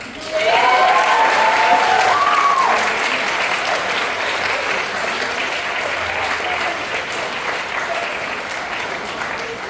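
Applause from a dinner audience at a commencement dinner, loud and dense at first with some cheering, then settling into steady sustained clapping for the full length.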